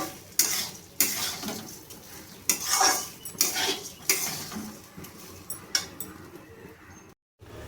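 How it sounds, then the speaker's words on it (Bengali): Rice is fried and stirred in a pan for gandharaj pulao with turmeric added. A metal spoon scrapes and clinks against the pan in irregular, close strokes over a soft sizzle, with no talking. "এইভাবে আমি ভালোভাবে এবার চালটাকে ভেজে নেব সুন্দরভাবে।"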